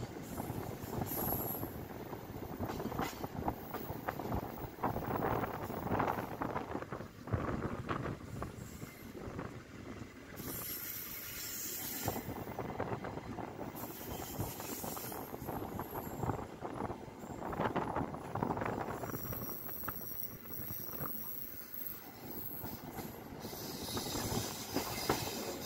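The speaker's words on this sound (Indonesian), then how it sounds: "silakan disaksikan kereta api Argo Sindoro yang saya tumpangi dibelokkan masuk ke jalur double-double track" The Argo Sindoro passenger train near Bekasi station is heard from on board as it switches onto double track: rumbling wheels, rhythmic clickety-clack over rail joints, and long high-pitched wheel squeals, with hiss and brief quiet gaps.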